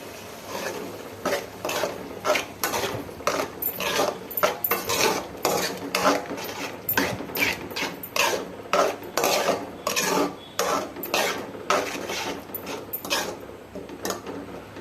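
Chickpea sundal mashed in a pan, a repeated rhythmic scraping and rasping of a metal spoon against the pan, loud and close, in quick regular strokes without pause.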